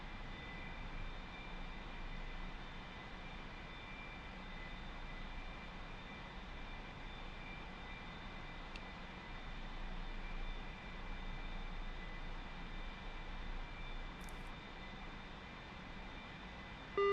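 In the DCS flight simulator, a heavily loaded A-4 Skyhawk jet climbs after takeoff with flaps coming up, a steady, faint engine drone with an even hum and no talking.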